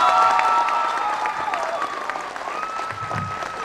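An audience applauding a film's executive producer, a dense wash of clapping that starts strong and eases slightly, with a held musical tone ringing over it.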